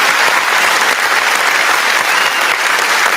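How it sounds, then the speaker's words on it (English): Canned applause sound effect played during a talk show, a steady dense wash of clapping that stays loud and even throughout with no voices over it. "Let me put on my applause."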